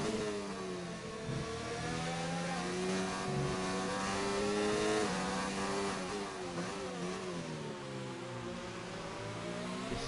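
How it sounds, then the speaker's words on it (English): A McLaren Formula 1 car in a racing video game at the Bahrain Grand Prix drones steadily at high revs, with engine pitch rising and dipping through gear changes, loud and continuous, with no voices. "You're on board currently with Ultimate Gamers in the McLaren, trying to get past the AI driver Lewis Hamilton"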